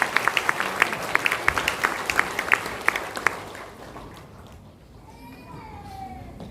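A church congregation applauds during an ordination ceremony for honorary deaconesses, a brisk patter of clapping for about three seconds that fades into quieter room tone and a faint voice.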